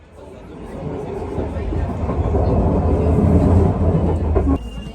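A train pulls into a station in Germany, its rumble swelling steadily and then cutting off abruptly near the end, with crowd chatter in the background.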